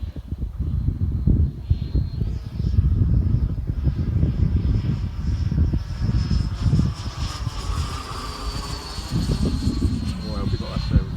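Model jet aircraft of a BAE Hawk or F-100 Super Sabre type flying past on a very windy day, a rising and fading turbine whine under heavy wind buffeting, with people talking nearby.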